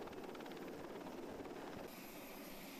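A military helicopter carrying troops hovers about ten meters above an area during army special forces training, its rotor thumping steadily at a distance, faint and unbroken.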